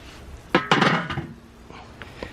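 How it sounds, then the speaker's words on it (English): Steaks being shifted on the grate of a 22-inch Weber charcoal grill, giving a few close clanks and scrapes of metal tongs against the grate in quick succession, then quieter clicks. "Alright, let's get these steaks moving."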